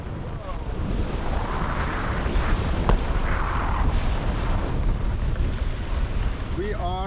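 Sailboat crossing the North Atlantic near the Faroe Islands under easterly wind, making 5-6 knots with the wind just off the bow; steady roar of wind buffeting the microphone over continuous wash of waves against the hull.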